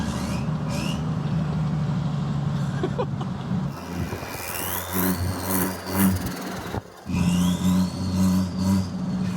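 A turbocharged Jeep Wrangler engine with a custom exhaust revs repeatedly, with rising whistling turbo spool and whooshing bursts over a deep, loud engine rumble.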